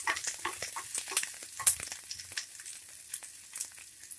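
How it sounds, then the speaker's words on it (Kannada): Onions and chopped ginger fry in hot oil in a pan for a Karnataka-style country chicken curry. A close, steady crackling sizzle is broken by scattered pops and a few stirring scrapes, with no talking. "ಈರುಳ್ಳಿ ಫ್ರೈ ಮಾಡ್ಕೊಳ್ಳಿ, ಸ್ವಲ್ಪ ಕಟ್ ಮಾಡಿರೋ ಶುಂಠಿ ಹಾಕ್ಕೊಳ್ಳಿ,"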